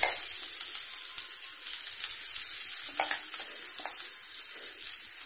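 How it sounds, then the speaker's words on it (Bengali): Grated sweet potato frying in hot ghee gives a steady, loud sizzle, with a few brief stirring scrapes partway through and no talking. "এবার ঘিটা গরম হয়ে গেছে আমি কোরানো রাঙা আলুটা দিয়ে দিচ্ছি"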